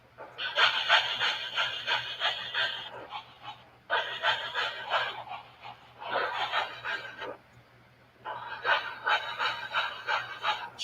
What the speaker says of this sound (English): Chuffing intensifies.